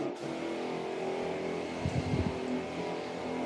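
Truck-mounted engine running steadily at a job site where paint is being stripped from vinyl floors, a continuous low mechanical drone with a brief rougher surge partway through, no talking.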